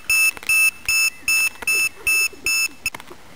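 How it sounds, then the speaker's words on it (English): A battery alarm on a VTOL model aircraft beeps loudly and shrilly in six evenly spaced pulses, with faint clicks and handling sounds between the beeps. "That'll be the battery alarm."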